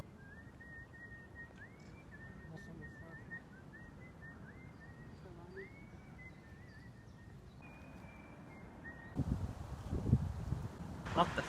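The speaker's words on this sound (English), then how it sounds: "And then came this terrifying whistling man." A man whistles a wandering melody of sustained and sliding notes in a high, elevated park on Petrin Hill in Prague, clear over light wind, before louder rustling and wind noise take over near the end.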